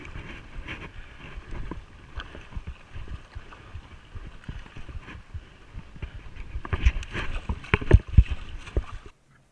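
Solo paddle on open water in a boat, with irregular watery splashes and strokes growing louder toward the end over a low rumbling background.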